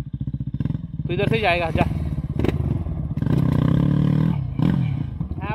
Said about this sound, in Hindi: ये देखिए बहुत थ्रॉटल दे रहा है, व्हील स्पिन हो रहा है